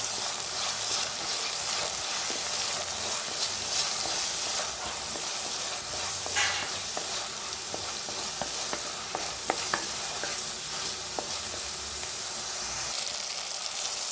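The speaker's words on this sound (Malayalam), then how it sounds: "ഇനി ഇതും കൂടി നന്നായി ഒന്ന് ഇളക്കി മിക്സാക്കി എടുക്കാം" Chopped tomato is stirred into a frying mixture in a pan for an anchovy chili curry, a steady bright sizzle and hiss with occasional spatula clicks and scrapes, close and continuous, no speech.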